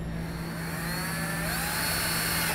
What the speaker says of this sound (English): So go ahead and drill out the holes we marked.